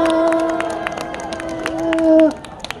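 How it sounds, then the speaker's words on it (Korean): On a Hongdae street, a busking crowd claps in scattered, crisp bursts while a sustained cheering voice rings out above them, then cuts off before a few final claps. "박수 한번 해주세요. 박수!"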